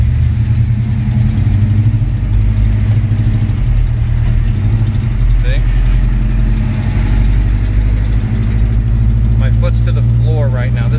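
Engine of a 1971 Chevy C10 long-bed pickup that hesitates when accelerating, lugging at low, heavy throttle with the foot to the floor, a loud, steady rumble from inside the cab; a voice briefly speaks near the end.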